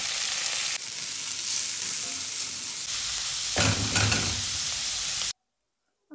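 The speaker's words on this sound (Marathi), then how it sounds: "आता यात आपल्याला टाकून घ्यायचं आहे 3 चिरलेले हे बारीक कांदे." Three finely chopped onions sizzle loudly in a hot pan for a mushroom masala, a dense steady hiss with a brief stirring scrape before it cuts off abruptly.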